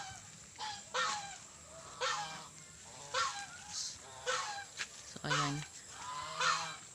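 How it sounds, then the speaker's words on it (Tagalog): Pet geese on a provincial farm honk repeatedly in the afternoon, short nasal calls in an irregular cluster at moderate distance, while someone talks over them. "So ito na mga ka-farmers yung mga alaga kong gansa"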